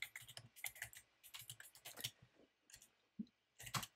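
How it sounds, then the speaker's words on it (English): Quiet, rapid keystrokes on a computer keyboard come in short irregular bursts of clicks with brief pauses between them, close and fairly soft. "So we will type in DISTILBERT in all caps."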